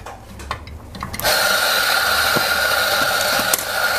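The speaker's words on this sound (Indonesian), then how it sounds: "Kita giling pakai grinder JX600 ya, ini dari JPW Indonesia." A JX600 coffee grinder with a doser grinds espresso coffee beans, a steady loud whirring drone that starts abruptly after a second of quiet room tone and runs on without pause.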